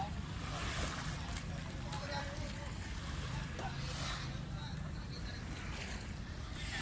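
A boat on open water, with wind buffeting the microphone, a low motor rumble and splashing waves, fairly faint and continuous.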